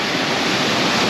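A brief, steady wash of falling water from Josephine Falls in Far North Queensland, close and loud, with an even hiss and no talking.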